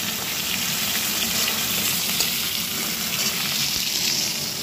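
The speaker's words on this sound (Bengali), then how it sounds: "এখানে মাছগুলোকে একটু ভেজে নেব।" Fish fry in a pan with a dense, continuous sizzle that has a watery, hissing texture. It stays steady and close throughout with no voices.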